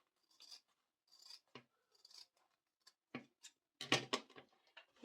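Scissors cut fabric along a marked line for a zippered pouch, giving crisp irregular snips with pauses between them, close and fairly clear.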